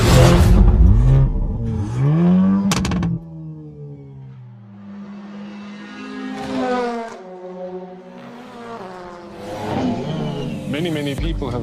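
A 280 hp 2022 Hyundai Elantra N sports sedan revs hard up and down several times, loud rising and falling engine sweeps at the start and again near the end, with a voice speaking in between.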